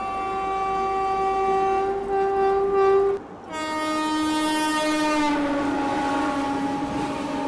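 Deccan Queen Express crossing on the Mumbai–Pune ghat section, announced by a loud sustained multi-tone horn that breaks briefly, then resumes with a drooping, Doppler-like pitch as the train rushes close past amid steady rumbling noise; no talking.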